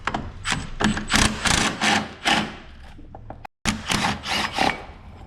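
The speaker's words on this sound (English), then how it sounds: "I'm gonna use a battery ratchet." A cordless battery ratchet loosens the bolt on a car battery hold-down bracket of a 2017 Hyundai Elantra, giving repeated close whirring bursts with a brief silent gap partway through.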